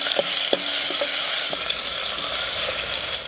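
Hing, mustard seeds, curry leaves and chopped tomato sizzle loudly in hot oil as a spoon stirs them, giving a few sharp knocks early on over the steady frying hiss.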